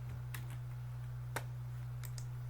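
Several quiet, scattered keystrokes on a computer keyboard, soft and close, sit over a constant low electrical hum.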